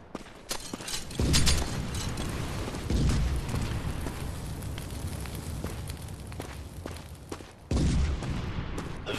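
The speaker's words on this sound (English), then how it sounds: "Grenade out!" Gunfire and explosion blasts in the mobile shooter Counter Attack, with heavy booming bursts near the start, at about three seconds and near eight seconds over a continuous rattle of shots.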